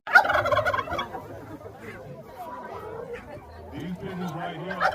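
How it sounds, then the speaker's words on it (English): Turkeys gobble on a Louisiana farm in Des Allemands, a burst of loud rattling gobbles up front followed by scattered softer calls and clucks from other fowl, with background chatter mixed in. "It's really healthy turkey."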